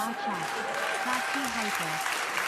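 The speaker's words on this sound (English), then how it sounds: "people start cheering spontaneously in Bill Maher's audience" A studio audience at Bill Maher's talk show cheers and applauds in a dense, steady roar that carries from start to finish, with scattered voices calling out within the crowd noise.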